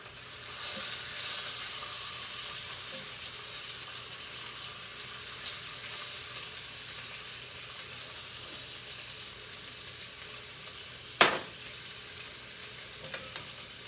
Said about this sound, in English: I slice it up, and then I refry it again so that it gets all crispy and delicious